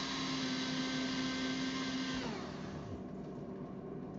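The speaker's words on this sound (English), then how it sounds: "I don't know how much more this will grind up." Small electric grinder whirring as it grinds hemp hearts, a steady close motor buzz that runs for about two seconds and then cuts off, leaving quieter rattling and room noise.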